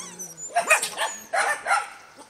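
Norwegian Elkhound dogs bark nearby in two quick bursts of sharp, loud barks with yips and some whining, over a little background voice.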